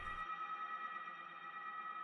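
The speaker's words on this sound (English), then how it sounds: "it's because of that fucking reverb coming from somewhere" A synth bass patch drenched in reverb in a music production session, a steady sustained tone with a lingering washy tail and chorus-like shimmer, heard alone without voices.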